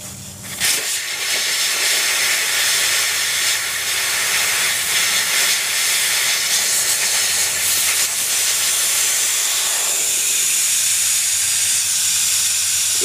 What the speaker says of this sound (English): it's probably a good idea to take all of the air out of the tire first